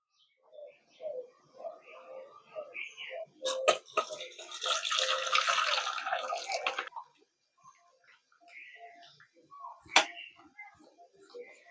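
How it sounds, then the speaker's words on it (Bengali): Whey from milk curdled for chhana pours off through a strainer as a steady splashing rush of water lasting a few seconds, set among quieter kitchen sounds. "যখন এরকম জল বেরিয়ে আসবে তখন বুঝতে হবে যে ছানা কাটানো হয়ে গেছে এই জল থেকে তাড়াতাড়ি করে ছানাটা ছেঁকে নিতে হবে"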